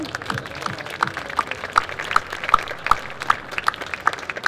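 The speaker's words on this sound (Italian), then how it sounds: "facciamo un bel applauso a Anna Maria Testa" At a talk on communication and manipulation, an audience applauds a guest speaker, with evenly spaced, prominent claps standing out from a softer spread of clapping around them.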